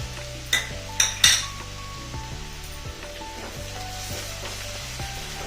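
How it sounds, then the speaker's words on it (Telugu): Crushed, coarsely pounded garlic sizzles in hot oil for a pickle tempering, with a steady fry hiss under a few sharp clinks of a spoon against the pan near the start. "వెల్లుల్లి పొట్టు తీసి కచ్చాపచ్చిగా పచ్చిగా దంచి పెట్టుకున్నాను అవి వేయండి"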